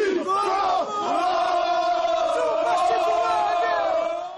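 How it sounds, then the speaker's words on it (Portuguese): São Paulo football fans celebrating outside the stadium, a large crowd chanting and cheering in one loud sustained roar with voices swelling together. "Enquanto isso, do lado de fora do estádio, festa da torcida."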